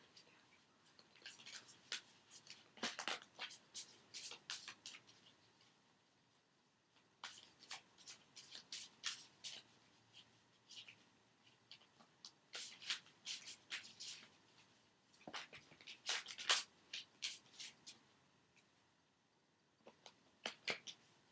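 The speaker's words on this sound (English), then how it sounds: "usually when they get fidgety with me, that means that the shuffling is good." Tarot cards are shuffled and riffled close up in bursts of crisp slapping and flicking, with pauses between rounds and soft whispering underneath.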